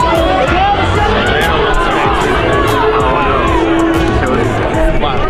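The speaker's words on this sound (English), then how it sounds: "Big crowd tonight." A large stadium crowd at a Charlotte FC home opener soccer match keeps up a dense, loud roar of cheering, shouting and chatter, with scattered whistles and voices throughout.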